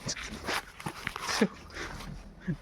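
A dog whimpers and yips in short, scattered sounds nearby, mixed with soft shuffling and background noise.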